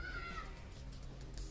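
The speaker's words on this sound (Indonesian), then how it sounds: "Ada kucing." A cat gives a short, faint meow close by, lasting only a moment over low background noise.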